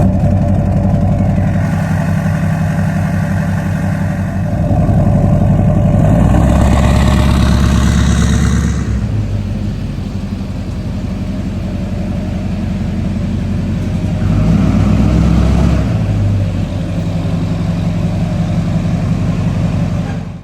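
A lifted Duramax diesel truck rumbles loudly and close at a steady idle after a cold start, with two brief swells in engine pitch as it revs slightly.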